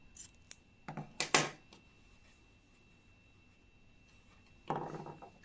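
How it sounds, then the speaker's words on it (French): Scissors snip through crochet yarn while an Easter bunny amigurumi toy is finished: a quick run of close, crisp cuts, a short quiet pause, then one more snip near the end. "je coupe mon fil"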